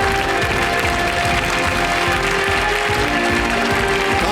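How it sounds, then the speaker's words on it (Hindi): Studio audience clapping on the set of the quiz show Kaun Banega Crorepati, a loud, dense, continuous wash of applause filling the whole stretch, with a tonal music bed running underneath. "तालियां बजती रहे जोर से"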